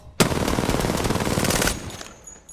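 Full magazine of automatic gunfire in a first-person shooter game, a rapid, loud, unbroken burst of shots lasting about a second and a half before stopping into quiet.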